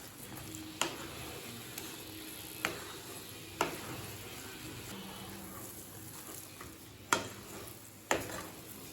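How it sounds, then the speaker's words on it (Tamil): Semolina and grated coconut being stirred in a pan for coconut laddu: a soft low scraping bed with a few sharp spoon knocks against the pan at irregular intervals, quiet and close, no talk. "ரவையும் தேங்காயும் நல்லா சாஃப்ட் ஆகிற வரைக்கும் கிளறிக்கலாங்க."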